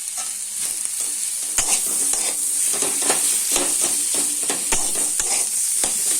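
Curry leaves, turmeric, cumin powder and potato sizzle steadily in a pan for a masala dosa filling, with a close, continuous frying hiss broken by scrapes of a spatula stirring.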